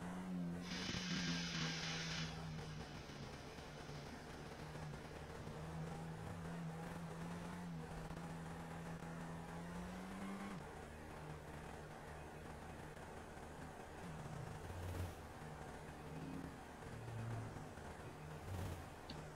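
A car engine hums steadily while driving in GTA V on a FiveM server during a driving-school test, a faint, even drone whose pitch sags and rises with speed, with no talk over it.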